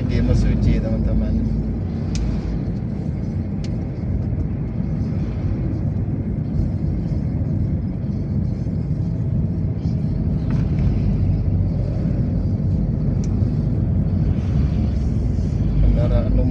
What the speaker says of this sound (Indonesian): Kendaraan lumayan padat